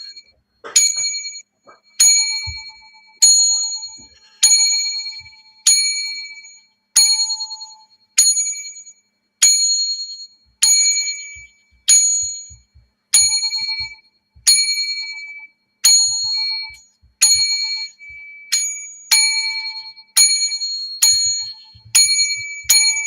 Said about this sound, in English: A 21 bell salute